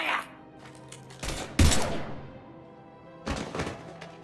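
Sci-fi gunfire in the video game Mass Effect: a few sharp, loud blasts and thuds burst out in quick clusters, with short pauses between the volleys.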